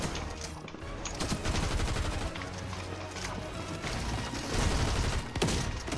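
Gunfire in the Fortnite battle royale video game rattles in dense, rapid volleys, with overlapping shots and mechanical clatter packed tightly across the whole stretch at steady loudness.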